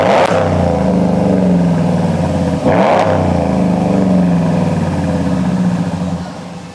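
Loud, deep 5.7 HEMI V8 of a 2019–2024 RAM truck roaring through an aggressive Thermal R&D Savage cat-back exhaust, steady throaty rumble with a couple of sharp revs, then easing off at the end.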